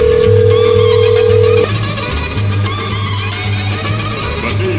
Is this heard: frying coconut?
no